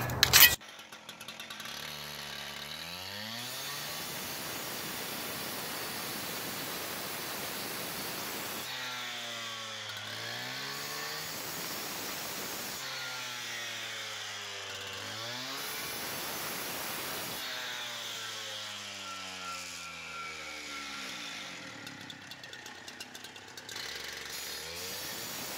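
A power saw grinds through an Allan Block concrete cap in long repeated passes, its whine rising and falling with each stroke, loud and continuous.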